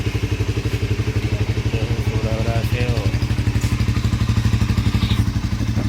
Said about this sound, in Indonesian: Nah, sekarang kita starter, kita seplong.